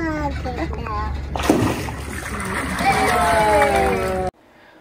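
A crocodile leaps from a river in Australia's Northern Territory and crashes back with a loud splash while snatching a chunk of meat, the burst of spray rising over steady boat engine rumble and excited talk from people aboard.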